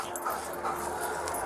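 A police dog at a property during an arrest, whining and yipping in short, uneven bursts, close by and moderately loud, with no speech over it.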